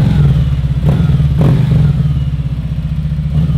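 A Harley-Davidson Softail motorcycle engine idles close by with a deep, loping growl, its steady uneven pulse running throughout with a couple of brief clatters on top.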